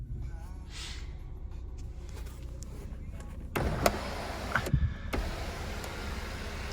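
Electric sunroof of a 1999 Renault Laguna 2.0 RTi 16V hatchback: a quiet motor hum inside the car followed by mechanical clunks and thumps as the roof moves, over a low idle background.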